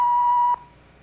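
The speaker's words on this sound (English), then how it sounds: "please leave a message at the sound of the beep" A single steady answering machine beep on a home phone, loud and close, holding for about half a second before cutting off to quiet line hiss.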